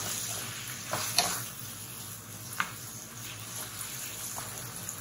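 Beef japchae noodles stir-fried in a pan, with soft steady sizzling and a few scattered scrapes and clinks of the utensil against the pan.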